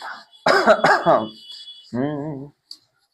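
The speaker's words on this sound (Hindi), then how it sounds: "थोड़ा खांसी उसी हो गया है" Two or three harsh, close coughs in quick succession, followed by a short throaty, voiced cough, then silence.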